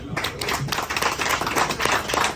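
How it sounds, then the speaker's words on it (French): A burst of dense clapping from a crowd, steady and fairly close, lasting a couple of seconds without talk. "Est-ce qu'on peut applaudir pour ça?"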